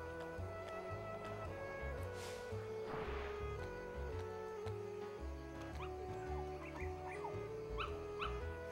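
Puppies whimper and yip in the video game Kingdom Hearts, small high cries scattered over a continuous game music backdrop, moderately loud with no talking.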